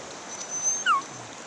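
A farm dog on a mountain farm gives a single faint, brief whimper over quiet outdoor background.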